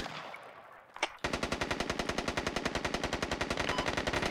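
Rapid automatic gunfire from the video game Squad rattles out in a steady, sustained burst after a brief pause and a single sharp shot, loud and close with no talk over it.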